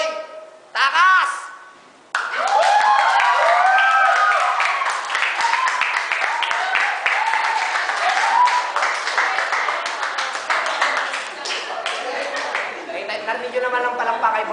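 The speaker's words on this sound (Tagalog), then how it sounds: "pinakamalakas na palakpak ha. Para kay Boy Takas!" Loud, sustained crowd applause and cheering at a pick-up fight event, rising abruptly after a brief announcer's voice and holding strong before slowly thinning out.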